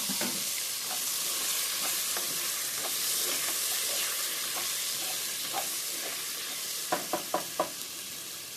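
Tomatoes fry with green chillies in a pan for egg biryani, a continuous hissing sizzle close by, ending in a quick run of four sharp utensil taps against the pan.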